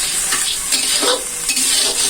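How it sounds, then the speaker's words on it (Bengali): Masala with water being stir-fried for chicken curry, a close spoon scraping and stirring in rhythmic strokes over a steady loud sizzle, with no voices. "জল দিয়ে আবারও মশলাগুলো ভালোভাবে কষিয়ে নিব।"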